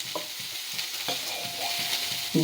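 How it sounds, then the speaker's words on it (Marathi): Chopped onion fries in oil in a kadhai, a close bright sizzle broken by rhythmic scraping strokes of a stirring spatula, with no voices. "कांद्याला थोडं भाजायसाठी थोडंसं आपण तेल टाकणार आहे"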